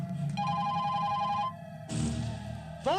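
A telephone rings in a Hindi-dubbed action movie scene, its tonal ring sounding in bursts with a pause in between, then ending in a rising, warbling sweep over a low background rumble.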